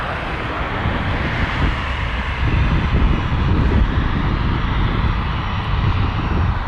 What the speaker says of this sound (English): We got the Pilatus coming back